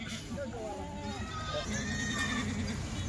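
Kathiawari goats bleat in wavering cries, a few close calls overlapping, with outdoor background noise and someone talking nearby.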